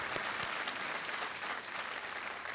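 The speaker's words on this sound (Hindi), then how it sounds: "एक बार फिर तालियों के साथ उनका स्वागत किया जाए" Studio audience on a TV quiz game show clapping to welcome a contestant, continuous broadband applause held at a fairly quiet, even level throughout.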